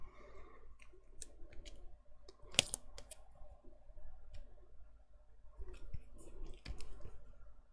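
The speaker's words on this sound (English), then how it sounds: "I have to use these scissors here." Teflon-coated scissors cut through red tape during a scrapbook album craft session, giving quiet, scattered snips and crisp clicks with one sharp snap, close and faint, with no talk.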